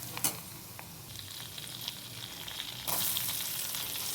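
Onions and chilli powder fry in a pan, a low steady sizzle with an early clatter, rising a little louder and brighter toward the end, no talking.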